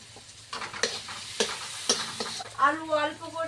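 Ginger-garlic paste with salt and turmeric fries in a pan, giving a soft sizzle broken by a few stirring scrapes; near the end a voice comes in over the cooking.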